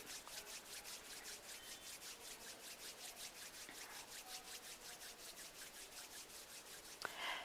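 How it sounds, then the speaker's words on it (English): Palms of two hands rubbing together at chest level in a steady back-and-forth rhythm, a close, soft swishing friction repeating evenly throughout with a small knock near the end. "gently rub the palms of your hands against each other"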